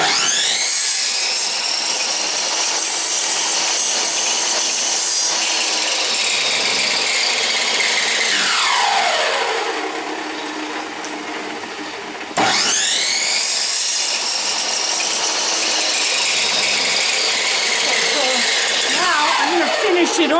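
A power tool cuts through wooden trim in two long, loud, whining passes, the motor pitch sagging under load near the end of the first cut before a brief lull and a second sustained cut.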